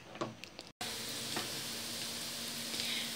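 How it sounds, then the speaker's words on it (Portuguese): Bacon sizzles and fries steadily in a pan, a dense continuous crackle heard alone and fairly quiet, broken by a few light knocks and one brief cut near the start. "Aqui eu tô fritando um baconzinho."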